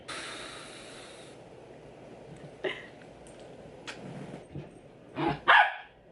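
A new puppy at home gives a few short, sharp barks and yips, scattered and growing louder toward the end, over a quiet room hum after an initial burst of noise.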